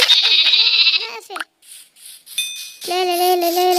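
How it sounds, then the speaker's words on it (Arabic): A Minecraft sheep gives several loud, close bleats in a row. Short tonal game chimes sound in between. "جبت خروف"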